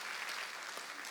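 A church congregation claps during a Sunday worship service, a brief, faint burst of applause with no voices.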